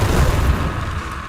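The Confringo fire spell from Hogwarts Legacy lands as a single close, heavy boom, with a dense low rumble filling the whole brief moment and easing off slightly at the end.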